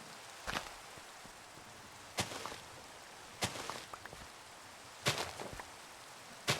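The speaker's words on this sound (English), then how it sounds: "I hate rain in Minecraft. It's the worst. So noisy." Rain pours steadily in Minecraft as a constant broadband hiss, broken every second or so by sharp, crisp clicks and taps close by.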